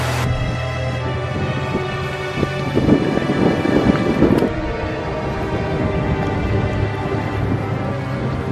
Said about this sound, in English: The wind is only, 30 kilometers an hour instead of 80